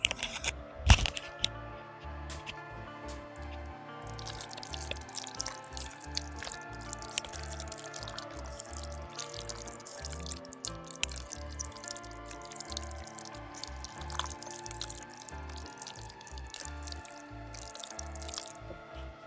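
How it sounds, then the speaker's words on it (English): Macaroni and cheese stirred in a pot, a continuous sticky, wet squelching and dripping texture with repeated soft spoon scrapes, close and steady throughout. "Do we go in for the ASMR macaroni stirring?"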